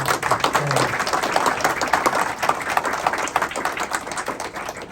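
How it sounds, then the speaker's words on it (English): Audience applause welcoming Albany County Executive Dan McCoy at a Medal of Mettle award ceremony, a dense, steady crowd clapping that carries through the whole stretch without letting up. "If we can give him a round of applause."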